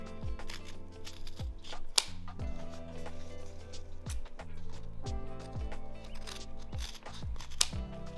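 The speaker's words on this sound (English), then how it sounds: "So I'm gonna cut these corners." Scissors snip the corners of kinesiology tape with several crisp, close cuts at irregular intervals, set against a steady background of music.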